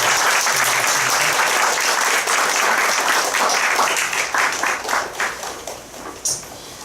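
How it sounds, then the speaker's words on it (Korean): A church congregation bursts into loud, dense applause that runs strongly for several seconds, then thins into scattered individual claps as it tapers off. "우리가 큰 박수로서 축하하도록 하겠습니다."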